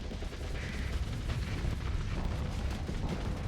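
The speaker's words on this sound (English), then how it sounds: "The Hyperion is rocking a machine gun and 2 heavy blasters, which it can fire pretty much constantly." The Hyperion ship in the space game Starsector fires its machine gun and two heavy blasters almost nonstop, a dense barrage of rapid, booming bursts that runs continuously at a loud level.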